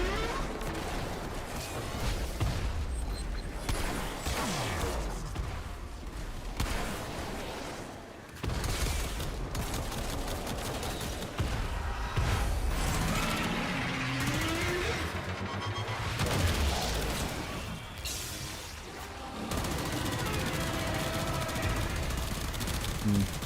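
In the video game Warframe, an amp weapon fires continuously, giving a dense stream of crackling, blasting energy shots and impacts that runs almost without pause, with a few brief dips, at a loud and steady level.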